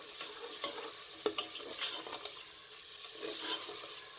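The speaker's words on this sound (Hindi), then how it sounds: "दाल डालकर आपने इतनी देर फ्राई करना है कि जो ऑयल है वो ऊपर आ जाए।" Lentils for daal mash fry in hot oil while being stirred, a steady close sizzle with occasional scraping and clinking of the spoon against the pot.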